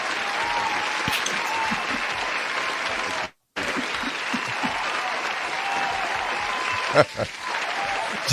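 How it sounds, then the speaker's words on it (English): Canned applause sound effect triggered by a button during a casual chat stream, a steady dense clapping wash running the whole stretch with a brief cut to silence partway through and a voice breaking in near the end. "Round of applause button. Press that button."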